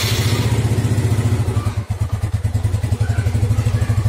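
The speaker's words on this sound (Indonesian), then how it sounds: "Oke, kita cek, kita nyalakan mesin Mas Bro." A Yamaha Mio scooter engine running close by, a rapid, even putter of exhaust pulses with a slight stumble midway before settling back into a steady idle rhythm.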